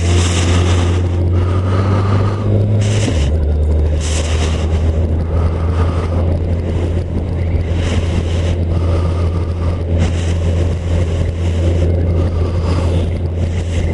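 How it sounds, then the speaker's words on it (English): Rider on a motorcycle while wearing a Motoport Maraton jacket, where rushing wind roars loud and steady against a low engine drone that drops in pitch early on, with no voices. "it feels good getting the wind blowing through this"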